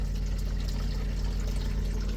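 Running water in a 1977 GMC Motorcoach after the fresh water pump was fixed, a steady loud rushing flow with a low constant hum underneath, unbroken from start to finish.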